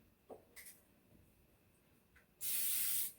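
Cooking spray hissing into a mini baking pan in a home kitchen, one close, steady burst lasting under a second, preceded by a few faint handling clicks and rattles.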